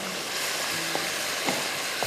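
Dal going into a hot pan, giving a steady soft sizzle and fry hiss that runs throughout, with a few faint stirring clicks and taps, close and alone with no talking.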